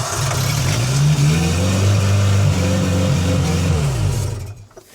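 Engine of a 1990s Genie man lift, with water in the exhaust, starts and runs loudly. Its rough mid-pitched drone holds steady for several seconds, then cuts off abruptly near the end.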